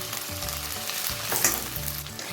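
Tomato chilli sauce poured into a frying pan of chilli paneer, a steady close sizzle with low scraping stirs and a brief brighter hiss near the middle.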